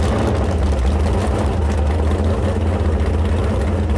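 A boat engine, a swapped-in LS engine, idles steadily with a loud, low, even rumble and no pauses or voices.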